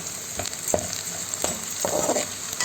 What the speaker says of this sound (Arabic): البصله دي ما بتتسابش، لازم تفضلي قدامها كده وتقلبيها لغايه لما تديكي اللون اللي انت عايزاه